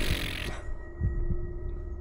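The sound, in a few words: heartbeat sound effect in horror video game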